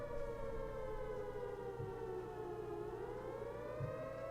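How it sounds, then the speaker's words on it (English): A wailing siren rises and falls steadily, loud and continuous, with a low mechanical hum beneath it. "Hear those sirens?"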